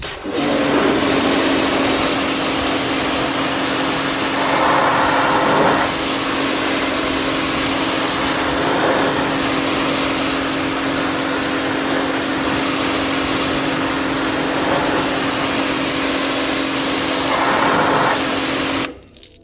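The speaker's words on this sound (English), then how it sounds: "So let's get this jet washed all the way around." A steady high-pressure spray hisses continuously, loud and close, as a pressure washer jet washes a Ford Grand C-MAX, with a motor droning underneath; the pitch shifts briefly a few times as the jet moves.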